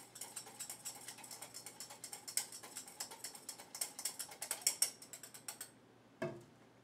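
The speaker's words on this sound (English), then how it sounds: "I need to whisk our salad dressing" A whisk beating creamy Caesar salad dressing in a bowl: quick, steady rhythmic clicking strokes, close and soft, running for several seconds before stopping, followed by one brief clatter.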